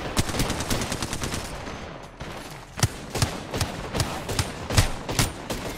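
Rapid automatic gunfire from an Apex Legends arena match, bursts of sharp shots in quick rhythmic volleys with a short lull near the middle, loud and close with no voices.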